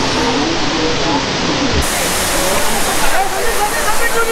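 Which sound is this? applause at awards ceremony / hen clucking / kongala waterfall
kongala waterfall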